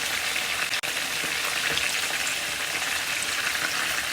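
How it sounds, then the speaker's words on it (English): Spicy chicken wings or halloumi fries fry in oil in a frying pan, giving a steady, dense sizzle that runs throughout with one brief dropout, and no voices. "I'm just going to let it fry and get really golden and crispy on each side"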